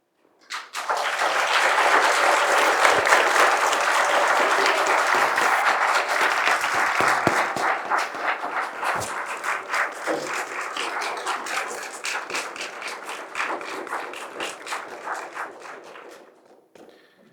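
Sustained applause from an audience at a town council meeting, loud and dense right away, then gradually thinning and fading out near the end, with no talk over it.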